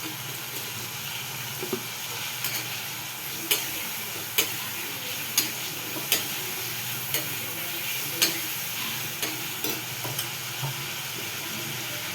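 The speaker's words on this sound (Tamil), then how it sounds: "தக்காளியை போட்டு நல்லா வதக்கணும்" Tomatoes with salt sautéing in a pan for egg thokku, a steady sizzle and frying hiss with scattered sharp ticks and clicks of stirring, close and continuous with no talk.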